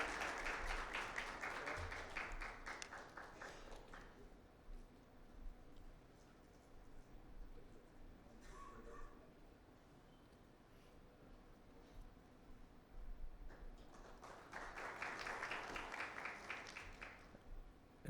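Applause for the Honorable President at an inaugural ceremony, a burst of clapping that fades into a quiet room with faint sounds, then swells again toward the end, fairly distant and soft.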